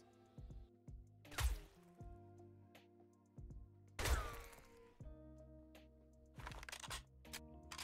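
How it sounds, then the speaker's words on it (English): Hunting rifle fired in the video game 7 Days to Die, giving a few muffled, quiet thumps at irregular intervals, each with a short ringing tail, over low background tones. "the hunting rifle is another excellent option for stealth because it's also very quiet."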